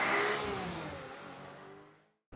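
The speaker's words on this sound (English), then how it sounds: "we're going for a drive in the Lexus RC F with that naturally aspirated beautiful V8 engine" A Lexus RC F sports coupe with a naturally aspirated V8 passes close by, its engine note loud at first and then fading away over about two seconds, with no talking.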